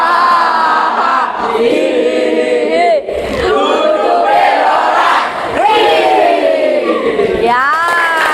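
A roomful of standing participants chants a loud, rhythmic group cheer in unison during a classroom ice-breaking game, close and continuous with rising and falling shouted pitches.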